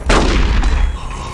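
A game gun in Metal Gear Solid: The Twin Snakes goes off once as a loud, close blast, followed by a rumbling low boom that lingers and fades slowly.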